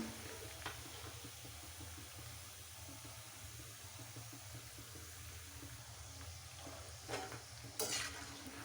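Chhana pithe, small sweet cheese dumplings, frying steadily in hot oil with a soft continuous sizzle and bubbling, a few brief clinks of a spoon or utensil near the end.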